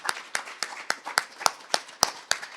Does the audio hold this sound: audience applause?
yes